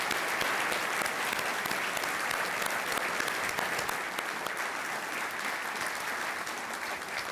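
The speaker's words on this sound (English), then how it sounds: "If you would please give them and all of our sponsors a welcome applause." Sustained audience applause at a university lecture event welcoming student body officers and sponsors, a broad even wash of many hands clapping throughout, moderately distant with no talk.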